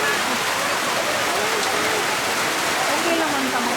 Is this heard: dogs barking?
no